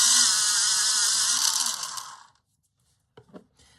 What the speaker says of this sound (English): Gonna give this a quick sharpen now.